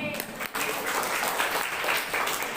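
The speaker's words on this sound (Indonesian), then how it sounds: "Tepuk tangan dong." A seminar audience at a PBNU digital literacy event applauds on cue, a brief burst of clapping from many hands with a short dip near the start, voices faintly mixed in.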